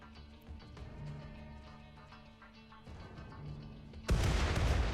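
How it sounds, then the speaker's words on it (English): Spaceship explosions and laser fire in the Rimworld video game: a low rumble of distant booms and pops, then a sudden loud burst of noisy blast in the final second. "I'm enjoying just watching the explosions, to be honest."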